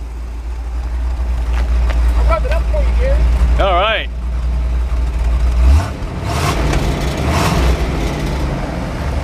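A 1979 Chevrolet Corvette's engine idling with a steady low rumble, close and continuous, its pitch shifting slightly partway through, while someone talks briefly over it.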